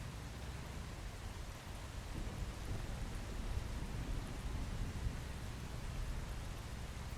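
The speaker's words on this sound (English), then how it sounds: "It's been raining a lot in game." Steady rain falls in the survival video game Once Human, a soft, even wash of patter with a low rumbling undertone that continues quietly and unbroken throughout.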